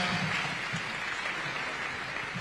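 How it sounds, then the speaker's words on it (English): Audience applause for a panel at a graduate intern engagement event on an affordable housing programme, a steady, fairly quiet wash of clapping lasting a couple of seconds with no talk over it. "A round of applause for our panel."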